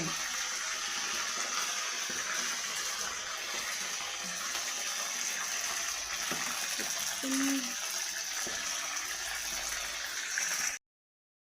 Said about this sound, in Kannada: ಎಣ್ಣೆ ಸಿಡಿಯುತ್ತೆ, ಯಾಕಂದರೆ ನೀರಿನ ಅಂಶ ಇರೋದ್ರಿಂದ ಎಣ್ಣೆ ಸಿಡಿಯುತ್ತೆ.